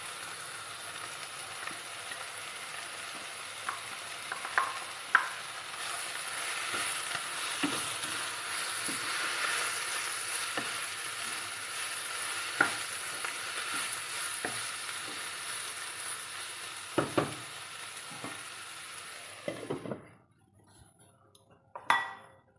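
Mushrooms frying in a pan with a chilli and coriander spice paste, a steady close sizzle broken by scattered clinks and scrapes of stirring, cutting off abruptly near the end.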